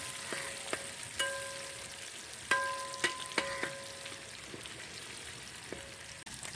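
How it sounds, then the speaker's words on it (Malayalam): Chicken frying in a pan for a grandmother-style coconut milk roast is stirred with a utensil, steady soft sizzling broken by several ringing metallic clinks and scrapes against the pan at irregular intervals, close and moderately quiet, with no voices. "ഒരു അല്പ സമയം ഒന്ന് ഇളക്കിയിട്ട് കൊടുക്കാം."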